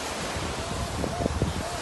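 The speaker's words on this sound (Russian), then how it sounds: "Как тебе водопад?" The Belogorka waterfall in Kyrgyzstan gives a constant broadband roar of falling water mixed with wind, loud and steady, with a faint voice briefly audible beneath it.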